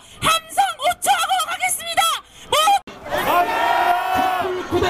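A crowd at a Korean political rally roars a battle cry together, a big sustained shout that swells after a man's loud amplified speech.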